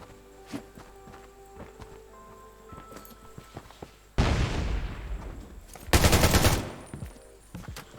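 Gunfire in Undawn, with light ticking and footstep-like taps and then two loud sustained bursts of automatic fire, each lasting close to a second or more, alone without talk.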